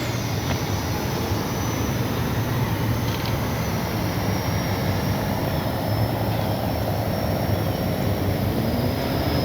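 A FlyFans L-39 Black Diamond RC model jet flies a morning sortie, its steady, loud turbine roar and wind rush filling the air continuously without a break.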